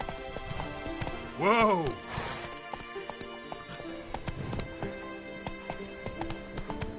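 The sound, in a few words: Roach the horse galloping in the video game The Witcher 3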